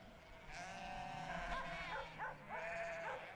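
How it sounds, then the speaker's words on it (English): Sheep or goats bleat in the farm area of the video game King of Retail, several overlapping wavering calls looping as a steady backdrop at moderate volume, with faint talk underneath. "All I hear is goats. Or sheep."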